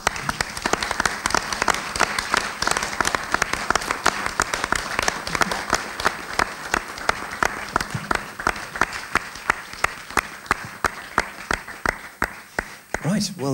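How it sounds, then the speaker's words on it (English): Sustained audience applause at the close of a film festival screening weekend, a crowd clapping continuously and fairly loudly throughout, with a few louder individual claps standing out near the end. "a big round of applause to absolutely everyone, our filmmakers, our guest panelists."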